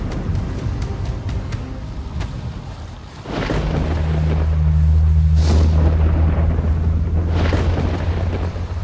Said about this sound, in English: What if one of these lightning bolts hits me and kills me?